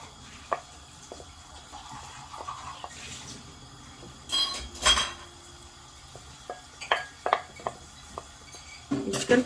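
Chicken mince frying in a pan with a couple of tablespoons of cooking oil over a gas flame, a low sizzle under scattered clinks and knocks of utensils on the pan, with louder stirring bursts mid-way.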